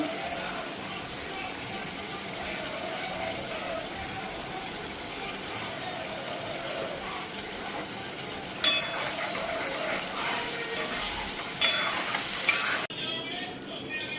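Spices with salt and turmeric fry in a pan, giving a steady sizzle with soft stirring that continues throughout, broken by a few sharper clattering bursts near the end.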